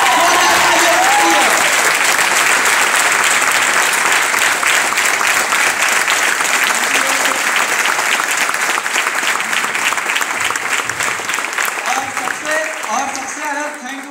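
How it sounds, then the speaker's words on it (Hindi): An audience at a stage event applauds with steady, dense clapping that lasts throughout and fades slightly at the end, while a voice talks over it. "उससे कहीं ज्यादा ताली होनी चाहिए अपने ग्रेट सीनियर्स के लिए"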